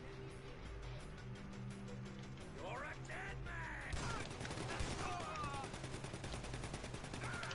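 Heavy weapons fire in GTA V, dense rapid bursts of game gunshots layered over continuous loud game noise, with a thicker barrage kicking in partway through.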